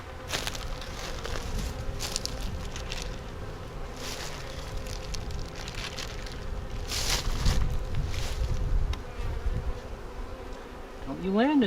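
Honey bees buzz steadily around an active hive in the open, a dense close insect drone with individual bees zipping past the listener, continuing throughout with no voices.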